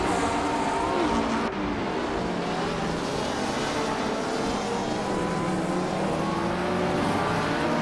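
A 1965 Honda race car engine, a steady loud roar that holds throughout with a brief dip early on.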